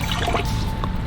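Water trickling and dribbling as a small dinosaur fossil toy is rinsed off, a steady close splash of running liquid lasting about a second.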